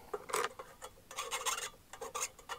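Sharp edges being trimmed and deburred on a sheet-metal table saw dust collector part, giving short irregular scraping and rasping strokes in quick bursts, close but quiet.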